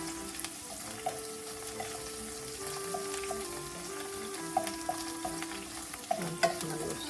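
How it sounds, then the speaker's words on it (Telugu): Sorakaya (bottle gourd) bajji fry in hot oil until brownish, giving a quiet, steady sizzle with soft bubbling and occasional small pops close by. "ఇలా మనం వేయించుకుందాము. కొంచెం బ్రౌనిష్గా అయ్యే వరకు వేయించుకోవాలి"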